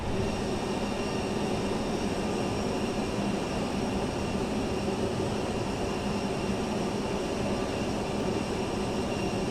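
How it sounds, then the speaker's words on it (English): Steady broadband airliner engine roar from Microsoft Flight Simulator as an aircraft arrives, a constant distant drone with tonal hum that persists unchanged throughout, with no talking. "You can see an aircraft arriving in the background there"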